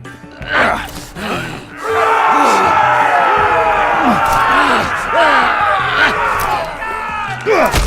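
An arena crowd in a Game of Thrones video game cheers and jeers in a loud, sustained mass of voices, swelling after a brief opening burst and holding strong throughout.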